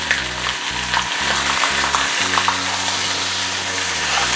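Chicken pieces browning in oil in a wok over a gas flame, a loud, continuous sizzle and crackle with no talking, accompanied by a low rhythmic hum that pulses early on before settling into a steady drone.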